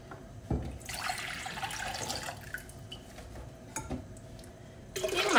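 Water is poured into a cooking pot that has a measuring scale inside, filling it to three and a half litres while making tapioca in wine. The splashing stream runs steadily with brief breaks and sounds close by, and no one speaks over it.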